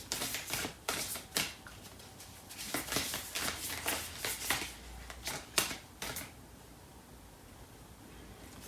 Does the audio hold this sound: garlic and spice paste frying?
no